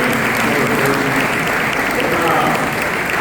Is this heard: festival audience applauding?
yes